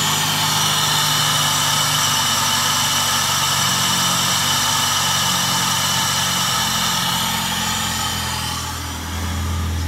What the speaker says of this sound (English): then we give it a quick rev.